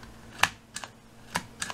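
Keys on a Polish Enigma machine replica keyboard are pressed one at a time, giving about five crisp, close clicks at uneven intervals over a faint hum.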